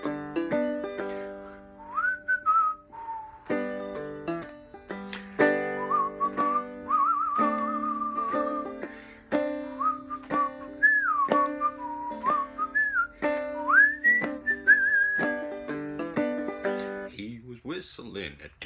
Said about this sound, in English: Whistling a tune,